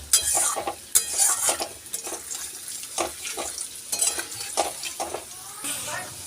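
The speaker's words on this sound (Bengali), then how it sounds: "আগে থেকে কেটে রাখা একটা মাঝারি সাইজের আলু ছোট ছোট টুকরো করে কেটে ভেজে নেবো" Small chunks of medium-sized potato frying in a spice mixture in a pan, loud uneven sizzling in bursts as they are stirred, with scraping and clinks of a utensil against the pan.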